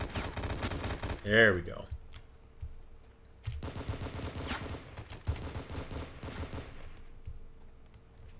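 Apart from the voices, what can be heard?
gunfire in the video game War Inc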